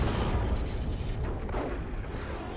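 A singularity ability detonates amid a Dawn of War 2 3v3 battle, a dense, continuous low rumbling roar with crackling bursts that holds steady and loud throughout, the scene busy with battle noise.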